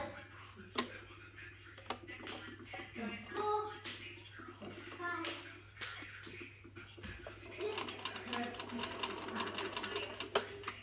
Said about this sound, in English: And this is the bobbin winder.